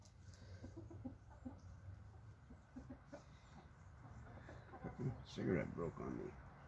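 Several chickens cluck nearby in short repeated bursts, growing busier and louder toward the end, with a person speaking softly among them.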